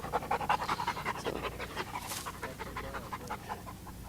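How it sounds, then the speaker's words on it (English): A bluetick hound panting rapidly and steadily on a mountain lion hunt, quick rhythmic breaths heard close up and fairly loud, with faint outdoor background. "This is Max right here, a blue tick."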